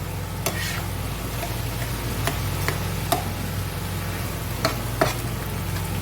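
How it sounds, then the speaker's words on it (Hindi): A spoon stirs pav bhaji with tomatoes and green coriander in a pot, making sharp scraping clicks at irregular intervals over a steady sizzling hiss of cooking. "अभी हम इसको चमचे से चला रहे हैं"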